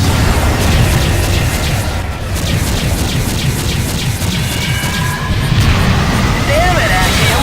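Space cruiser of the Kane class, the Azurus, fires all of its guns in Freespace 2, a dense barrage of booming blasts and bursts over a steady engine rumble, with voices talking over it.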